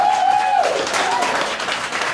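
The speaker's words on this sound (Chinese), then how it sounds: "掌声欢迎我们的立德会" Applause from a concert audience as a performer is welcomed on stage, a broad wash of clapping filling the whole moment, with a brief tonal note at the start.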